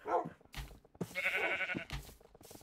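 A sheep in Minecraft bleats in short, nasal bursts, several calls in quick succession, fairly close and clear with brief gaps between them.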